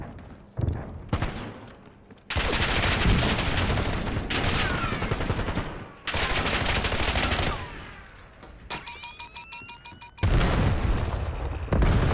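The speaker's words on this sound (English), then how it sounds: "Hostile pinpoint grenade." Loud bursts of gunfire and booming grenade blasts from a shooter video game, coming in dense sustained volleys separated by short lulls, with no voices.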